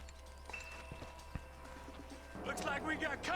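A horse in full gallop in Red Dead Redemption Remastered: rhythmic clip-clop hoofbeats that grow louder and denser in the second half, over a steady low hum.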